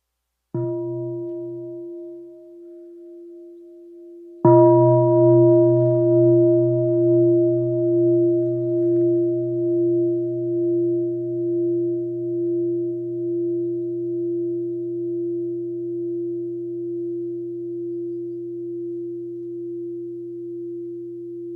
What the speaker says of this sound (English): Let us listen to a sound of the bell before we ask your question.